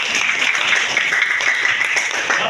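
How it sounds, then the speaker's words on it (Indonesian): A class applauds their teacher after a Simon Says game, a brief burst of dense, close clapping that stays even throughout, with faint voices mixed in. "Tepuk tangan untuk Bu siapa?"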